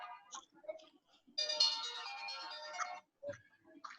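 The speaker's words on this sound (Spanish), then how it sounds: "Teléfono," A telephone ringtone plays as a steady electronic melodic tone for over a second, set between stretches of lecture speech in a classroom.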